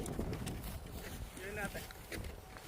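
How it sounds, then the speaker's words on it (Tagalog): Strong winter wind buffets the microphone at an artificial ski hill in Canada, a steady broadband roar with gusts throughout, while a person talks over it. "Grabing hangin."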